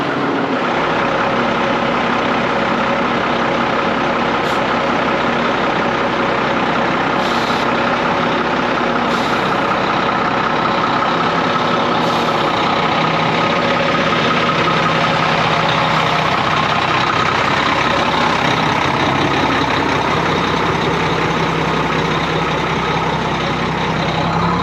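A heavy Cummins diesel engine in an ERF truck idles steadily and loudly for the whole stretch, a deep continuous rumble with a faint high whine on top.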